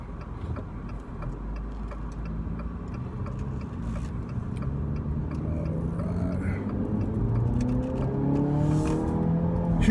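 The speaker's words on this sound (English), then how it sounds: "Hear that powerful 4-cylinder tiny engine." The 4-cylinder engine of a 2018 Jeep Renegade revs up with a rising, whirring tone that climbs steadily toward the end, heard close and fairly loud, with faint ticking underneath.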